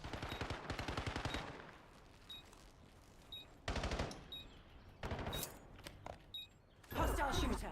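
Several short bursts of video game gunfire with quiet gaps between them, alongside faint game voice cues.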